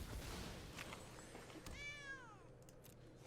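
A single cat meow from the MTG Arena digital card game, a short rising-then-falling cry heard over a soft bed of game music and effects, fairly quiet.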